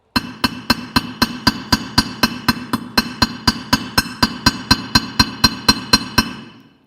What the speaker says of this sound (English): So I'll flatten it with a few taps, and then to spread that out, I would hammer just a little bit harder.